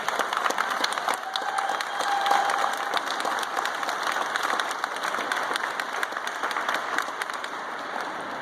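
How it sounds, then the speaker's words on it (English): A crowd applauds student leaders at a press conference, a steady wash of clapping that holds at an even level throughout without voices. "How about a round of applause for the kids?"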